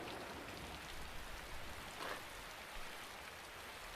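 Steady rain falls in a continuous soft hiss with scattered droplet patter, even and fairly quiet throughout with no voices.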